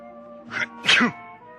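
A single close sneeze with a short intake before the sharp burst, loud and isolated over faint background hum.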